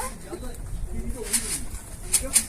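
A Mardin pigeon coos softly in low, rolling calls close by, while a person talks nearby and a few sharp clicks break in near the end.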